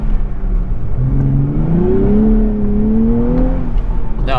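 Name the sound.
Nissan Z 400 horsepower sports car accelerating up a steep hill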